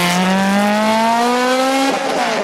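A Ferrari F430 sports car drives past close by, its engine note climbing steadily in a loud, strained rising tone before dropping sharply as it shifts or passes.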